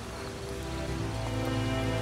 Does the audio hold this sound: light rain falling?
yes